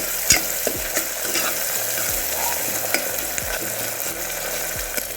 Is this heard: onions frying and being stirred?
yes